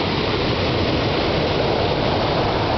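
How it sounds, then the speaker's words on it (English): Water gushing out of the side of a mountain and spilling down toward a beach, heard as a loud, steady, close rush of broadband noise with no pauses and no voices. "here's some water coming right out of the side of the mountain"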